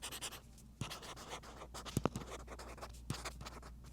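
A pen writing on a reMarkable 2 e-paper tablet, soft scratchy strokes in quick irregular bursts with a few sharper taps, close and quiet.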